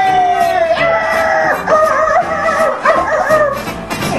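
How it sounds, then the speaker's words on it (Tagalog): A dog barks and howls loudly and close by, with rising and falling wails and yips in an uneven rhythm across several seconds. "Ingay naman ng aso."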